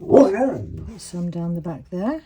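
Dog barking and whining indoors during resin crafting, several tonal yelps and barks close by, mixed with a person speaking briefly.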